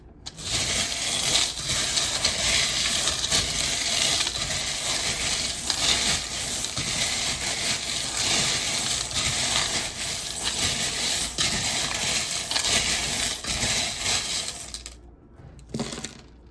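Small metal charms rattle and clatter continuously as they are shaken loudly for a long stretch, then a few land with brief clinks before it falls quiet.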